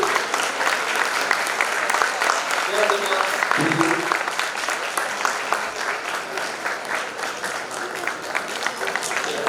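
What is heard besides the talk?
audience applause at school MUN event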